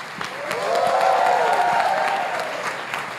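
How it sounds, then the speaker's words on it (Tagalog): A church congregation at a Filipino sermon claps together, the applause swelling and then fading over a few seconds, with a musical tone or cheering voices running through the middle. "Palakpak!"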